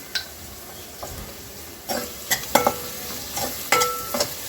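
Onions fry with salt in a pan, a soft sizzle underneath as a spoon stirs and scrapes in several distinct strokes, close and clear without talk.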